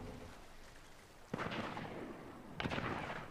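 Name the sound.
cannon firing in Fortnite video game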